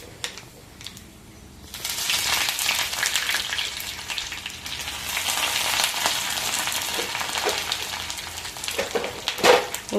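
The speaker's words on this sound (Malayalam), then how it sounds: "അപ്പം നമുക്ക് കടുക് പൊട്ടിക്കാം" Mustard seeds and fenugreek hit hot oil in a pan: after a quiet second and a half, a loud, steady sizzle starts and continues, with scattered small pops and a sharper crackle near the end.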